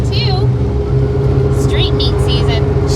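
A 1955 Chevy Nomad gasser with welded Flowmaster-style mufflers rumbles steadily and loudly throughout, its low engine and exhaust drone constant beneath faint chirping and occasional background voices.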